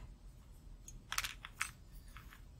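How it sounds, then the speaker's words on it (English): Unused telephone wires being snipped off while assembling a lineman's handset: a few quiet, close clicks and snaps in a short burst, with small handling sounds on either side. "These wires are not going to be used for anything. So we can just cut them off."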